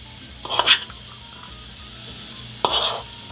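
Celery and onion sauté in a pan under a low, quiet sizzle, with two distinct louder bursts of stirring or tossing spaced about two seconds apart and no talking.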